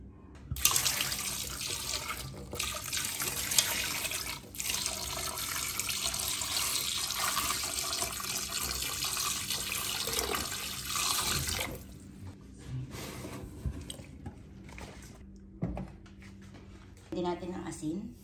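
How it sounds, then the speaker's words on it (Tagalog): Tap water runs steadily into a cooking pot for beef with kidney beans, a bright continuous splashing stream that stops partway, leaving quieter kitchen clatter, with someone talking throughout. "Tapos lagay na po natin ng tubig."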